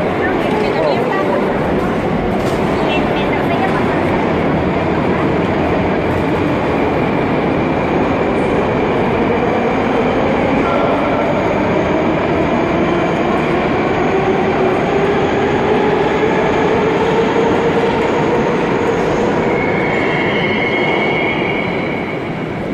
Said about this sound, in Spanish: este es el subte aquí, en el metro le dicen acá